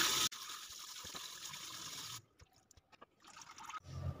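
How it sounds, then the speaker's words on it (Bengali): Running water rinsing freshly made chhana cheese curds for rosogolla, a steady close splashing trickle that cuts off midway, leaving a few faint drips and scattered handling noises before the flow resumes. "ছানাটাকে জল দিয়ে আমি ভালো করে ধুয়ে নিচ্ছি"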